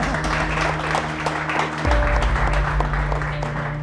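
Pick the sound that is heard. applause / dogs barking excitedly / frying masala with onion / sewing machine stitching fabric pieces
applause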